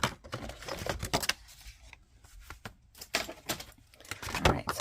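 A paper trimmer slices cardstock in quick, close bursts of rasping, clicking cuts, with short quieter gaps between strokes.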